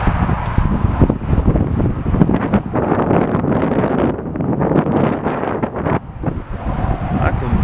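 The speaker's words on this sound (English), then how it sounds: "I mean, it could be the wind." Wind blows hard outdoors, a continuous rumbling buffet against the microphone with uneven gusts that swell and dip throughout.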